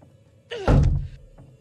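A door bursts open with a single heavy thunk and a short creak in the horror game The Devil In Me, loud and close with no talking.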